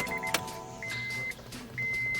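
Fuel pump priming in a Honda Prelude after the ignition key is turned, a thin electric whine that starts and stops in a couple of short bursts over a low background hum, with a click near the start.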